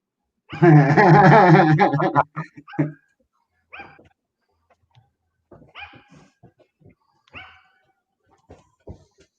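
A dog nearby lets out a long drawn-out growling whine, then a scattering of short, soft whimpers with quiet gaps between them, and no one speaks.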